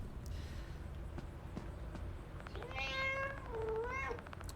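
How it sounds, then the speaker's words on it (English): In the video game Five Nights at Freddy's: Into the Pit, a cat gives two clear, rising meows close by, heard alone over a low ambient game background. "Cute kitty."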